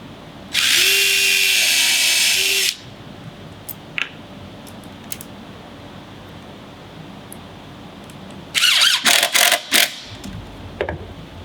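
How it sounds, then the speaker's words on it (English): A power drill whirs loudly for about two seconds, pauses, then returns in several short, stuttering bursts as it bites into wood, close up. "Help if I drill the hole first."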